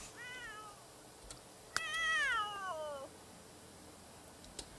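A Sims 3 cat lets out a short meow followed by a longer, louder wailing one, with a faint click just before and a quiet background, no speech.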